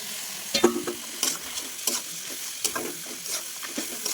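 Fish heads drop into jackfruit already frying in spiced oil, giving a steady close sizzle broken by several sharp stirring and spatula scrapes spaced through the pan.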